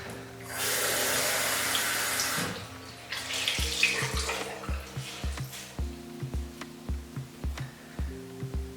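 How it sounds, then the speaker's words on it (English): A bathroom tap runs hot water in a steady close hiss for a couple of seconds, pauses, gushes again, then gives way to a regular series of low thuds and clicks. "Just going to get the tap really nice and hot"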